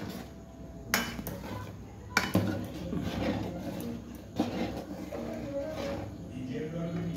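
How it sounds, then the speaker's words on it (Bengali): A spoon scrapes and clinks against a metal pot while spices are mixed into simmering vegetarian khichdi, with a few sharper knocks among steady low stirring noise at close range. "এবার ভালো করে মিশিয়ে নিচ্ছে মশলাটা।"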